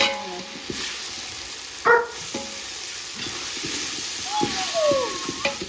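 Garlic chutney stirred through a sizzling pan by hand, with a steady frying hiss, intermittent utensil scrapes and clatter, and a few brief voice-like sounds in the background.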